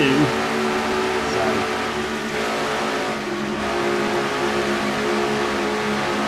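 Race car engine at the Atlanta track during an NNSCRA Castrol GTX Cup race, a loud, sustained high-rpm drone near 9,000 RPM heard from inside the car, with little change through the corner.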